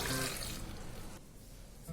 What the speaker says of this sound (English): But before that, I'm gonna add 1 glass of water.